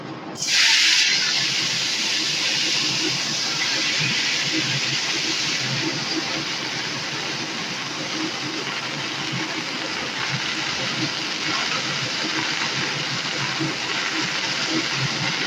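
Pumpkin greens with cut potato dropped into hot oil, giving a loud, steady frying hiss and sizzle that begins abruptly and holds for the whole stretch, with faint crackle underneath.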